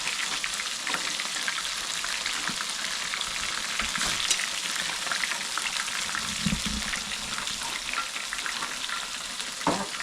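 Shrimp cooking in butter curry in a pot over an open fire in Jamaica, a dense, even sizzle and bubbling with occasional stirring knocks, close and constant without talking.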